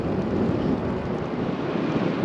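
Steady headwind roaring across the microphone while bikepacking past wheat fields, a constant loud broadband rush with no talking.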